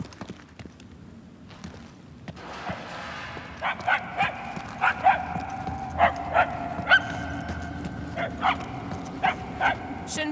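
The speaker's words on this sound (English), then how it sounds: "I can hardly hear the dog." A dog in the video game Marvel's Guardians of the Galaxy barks in a rhythmic series of a dozen or so sharp, fairly close yaps that start partway through, over a low background rumble with faint voices.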